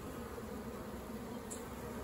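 Honey bees hum steadily inside a hive crowded with drones during an inspection before splitting the colony, a dense, even buzz held close throughout the short moment.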